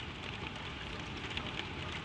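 Steady rain drums on a tin roof over an attic bedroom, a dense, even patter that holds at one constant level throughout with no voices.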